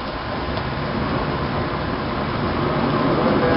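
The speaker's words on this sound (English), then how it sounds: "This is my hair dryer." A hair dryer blows with a steady, even broadband whoosh, close and continuous with no talking.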